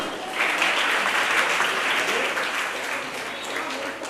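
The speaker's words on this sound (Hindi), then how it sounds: "तो जोरदार तालियां करिए" Applause for prize winners at a girls' school function, a crowd clapping steadily and fairly loudly for several seconds, swelling early and then easing slightly.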